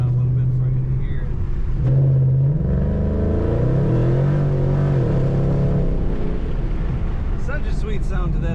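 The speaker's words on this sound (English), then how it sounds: "Such a sweet sound to that exhaust." Exhaust of a 2013 Ford Mustang Roush Stage 3 with a supercharged engine rumbles loud and close from inside the car, its deep drone rising and falling as it revs, with someone talking over it.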